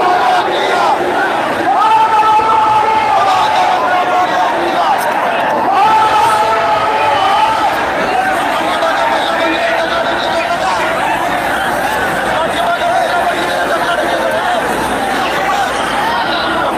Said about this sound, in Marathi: प्रचंड प्रचंड गर्दीचे सर्व रेकॉर्ड ब्रेक होतील इतकी प्रचंड गर्दी या ठिकाणी आपण बघू शकतोय